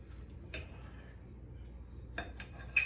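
A few light clinks of cutlery against a plate at a family meal of rare steak, sparse and close in a quiet room.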